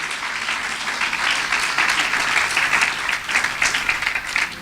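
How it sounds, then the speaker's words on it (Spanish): Congregation in a church applauding the Lord, sustained clapping from many hands at moderate volume filling the space evenly, with little talk over it. "Denle un aplauso al Señor."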